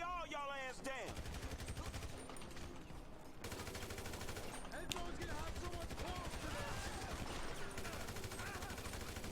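Gunfire in the video game Grand Theft Auto 5, with rapid bursts and repeated shots cracking steadily through the whole stretch, loud and close, while someone talks over the shooting.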